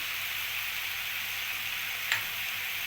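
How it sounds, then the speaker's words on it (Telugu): Green chilli paste, ginger-chilli paste, curry leaf powder and coriander powder fry in a pan with a steady, even sizzle and one faint tick partway through, and no voices. "కొంచెం ధనియాల పొడి ఇవన్నీ వేసి బాగా మగ్గనివ్వాలి"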